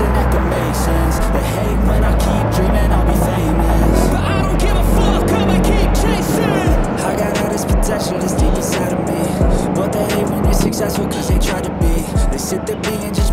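Motor scooters, Honda ADV among them, ride in a group of over twenty on a dark Halloween night, their engines droning loud and steady before giving way to rougher, choppier rumbles and wind buffeting.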